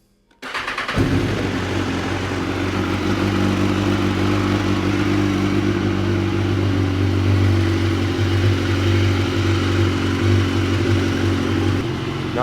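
A BMW S1000RR motorcycle engine starts and settles into a steady, loud idle with a constant low drone that holds evenly throughout, close by with no talking.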